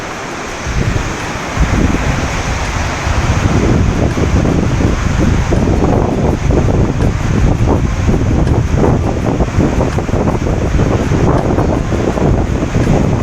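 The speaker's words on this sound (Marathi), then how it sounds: "सुंदर अशा प्रतापगडच्या रस्त्याला जाताना आपल्याला हा एक सुंदर वॉटरफॉल इथं दिसतोय" Ambenali waterfall beside the road to Pratapgad, a loud, steady roar of rushing water heard nearby, mixed with gusty wind buffeting the microphone, with no speech.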